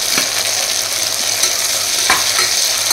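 Tomatoes tipped into a pan of frying onions for a goat head curry, with a steady loud sizzle and a few sharp scraping stirs of a spoon against the pan, no voices.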